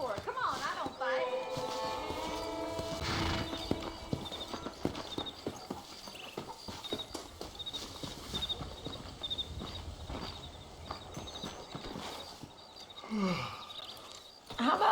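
Horse hooves clip-clopping in the video game Red Dead Redemption, a steady rhythmic walking gait close by, with game music and speech over it and a snort near the end.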